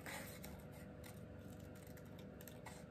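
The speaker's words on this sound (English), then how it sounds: "I'm just gonna cut this out real quick" Scissors fussy cutting a stamped card piece for a handmade birthday card, quiet close snipping and rustling of paper in a continuous run with no talk.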